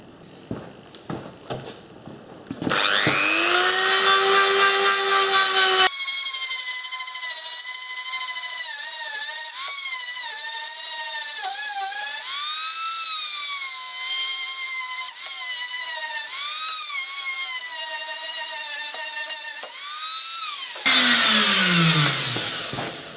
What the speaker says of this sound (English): So let's Dremel this inside face of this and see how we go.